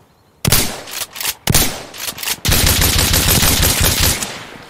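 M870 pump shotgun with suppressor firing slug rounds in the video game Insurgency Sandstorm, several loud close shots in quick succession followed by sustained firing and heavy noise.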